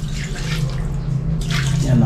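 Water poured out and draining away in a cleaned sink or drain, a continuous splashing trickle running under someone speaking.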